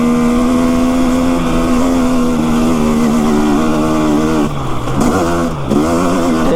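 Engine of a vehicle being driven over rocks and shifted down to third gear: a loud, close, continuous drone whose pitch slowly falls, then dips and rises again as the gear changes, with no talk.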